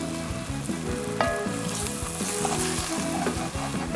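A flour, oil and onion roux for Cajun catfish courtboullion sizzles steadily in a hot pot while being stirred, with close, continuous frying crackle and soft rhythmic scraping, no voices.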